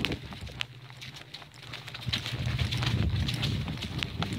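Hooves of a ten-year-old APHA mare loping while ridden around a field, a soft, steady rhythmic drumming of footfalls on ground, moderately close, with faint wind and no talk.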